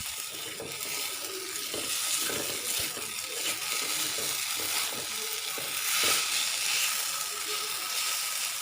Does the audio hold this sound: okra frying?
yes